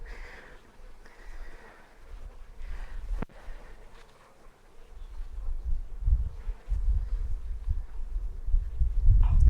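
Bees buzz steadily and continuously close by at an open nuc hive, over a low rumbling background, with one brief sharp click partway through.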